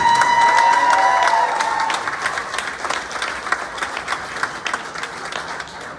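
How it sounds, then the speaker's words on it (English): Audience applause for the Turning Point team at a community recovery walk, a loud burst of clapping that gradually fades, with a whistle or tone at the start and scattered claps toward the end. "Give them a hand for all the work they put in"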